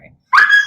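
A single short dog yip or bark rings out sharply and close after a brief silence, high-pitched and slightly whining as it fades.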